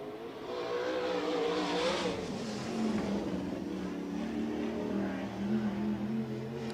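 A USAC midget race car roars around Merced Speedway, its engine note rising and sweeping past at a distance in one continuous drone, fairly faint with crowd ambience.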